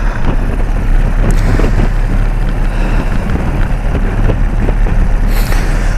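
Strong wind roars and buffets against the microphone while riding an old motorbike on a stormy winter day, a loud, constant rumbling rush with the engine droning beneath.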